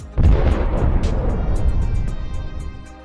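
An explosion sound effect: a sudden, very loud boom hits at once and rolls into a deep, heavy rumble that slowly fades over about three seconds.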